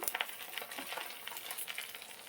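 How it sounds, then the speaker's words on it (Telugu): Cumin seeds sizzling in hot oil in a pan while making gongura pickle, a steady close crackling fizz with small pops throughout, no talking. "నూనె వేడైంది, జీలకర్ర వేసుకోవాలి."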